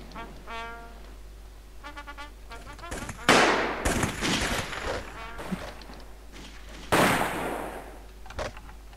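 Gunfire in the World War I trench-combat game Blood & Iron, with loud bursts of shots and sharp cracks over a constant low hum, mixed with battle noise and voices.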